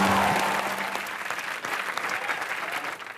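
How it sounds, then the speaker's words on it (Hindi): Studio audience applause on a comedy show, a dense burst of clapping and crowd noise that fades slightly across the few seconds, with no voice on top. "उस आदमी के लिए जोरदार तालियां।"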